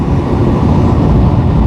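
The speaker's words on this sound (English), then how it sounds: "Oh my god, there's a lorry" A lorry rushing past a Benelli BN125 motorcycle on the road: a loud, steady roar of engine and wind rumble, close and filling the whole moment without any voices.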